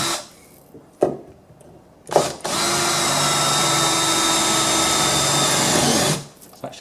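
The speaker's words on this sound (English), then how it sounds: "I'm going to pilot that hole." A power drill bores a pilot hole through the metal double-skin tailgate of a VW T5 or T6 van, a couple of short bursts first, then a loud, sustained whine for about four seconds that stops abruptly; no talking.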